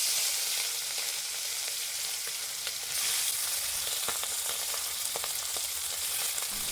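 Oil heats in a wok ahead of frying hilsa fish, giving a steady hissing sizzle with scattered small pops and crackles, close and even throughout.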